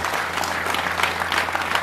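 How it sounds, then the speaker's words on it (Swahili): Dense applause from a gathering at Arusha main prison, honoring prisoners, a steady wash of many hands clapping close by with no pause, a low mains hum running underneath. "naomba tuwapigie makofi na wajipigie makofi mengi sana"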